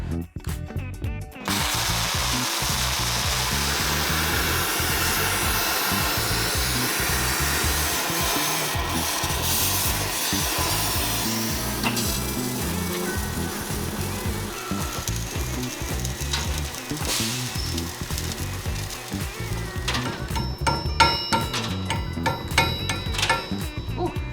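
MIG welding on a spun-rod 3.3-litre inline-four diesel crankshaft gives a steady, loud crackling buzz. It runs almost without a break for over twenty seconds and no one speaks.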